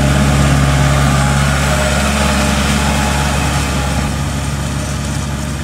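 Kubota 5018 tractor with a naturally aspirated 2.4-litre Kubota V2403 diesel idling steadily, a loud, close, constant low rumble with a faint hum above it and no voices.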